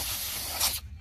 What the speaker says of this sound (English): So we're just gonna spray it down.